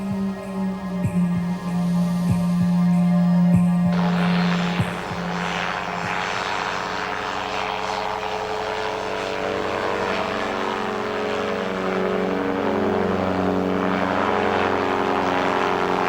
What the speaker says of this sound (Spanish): Utilizando un pequeño motor delta con forma de cóndor, nos elevamos sobre Sacsayhuaman para mirarlo desde el aire